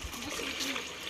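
Water pours and splashes steadily into a bucket at low level, a continuous trickling and spattering with faint voices in the background.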